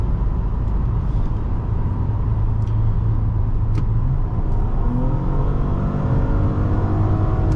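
A 2020 Nissan Maxima SV with a CVT accelerating hard, its engine droning and rising steadily toward the redline as tones sweep upward near the end, heard from inside the cabin with road rumble and no talking.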